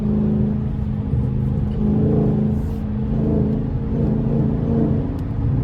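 A Dodge 392 Scat Pack with a loud aftermarket intake rumbles and revs, a deep, steady, close engine roar that swells slightly in waves.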